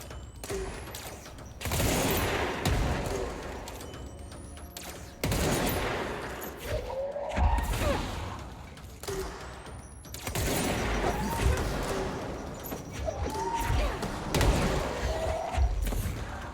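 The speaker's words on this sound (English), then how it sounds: "It's a lot of grenades. Is there more than one shooting grenades?" Grenades fired and exploding in the video game Control, with several heavy bursts and thuds in quick succession, separated by shorter gaps of mechanical clatter and debris, sounding loud and close.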